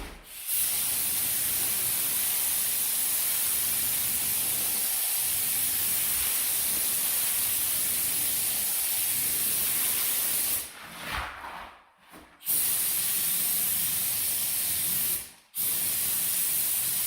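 An HVLP paint sprayer fed by a 15-gallon compressor at about 35 psi coats a bathroom vanity, giving a loud, steady hiss that runs almost unbroken, with brief pauses near the end where the trigger is released.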